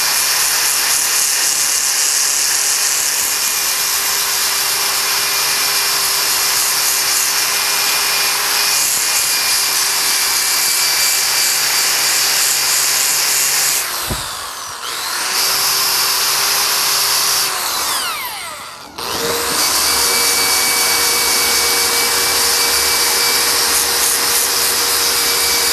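Power sander pad working across wood, a steady loud broadband whir with a constant motor tone that dips briefly twice as the pad lifts or shifts, no talking.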